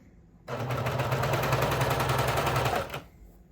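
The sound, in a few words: cover stitch machine sewing hem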